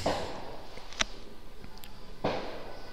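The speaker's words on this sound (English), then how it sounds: "there are firecrackers right outside my window, which is open because it's warm today" Firecrackers going off outside an open window on a warm day, a few sharp distant bangs popping over steady outdoor background noise.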